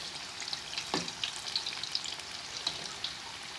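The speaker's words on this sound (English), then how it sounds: "those have been frying away nicely for a couple of minutes now" Onion bhajis fry in hot oil with a steady crackling sizzle, dotted with sharper pops and a couple of soft stirring scrapes.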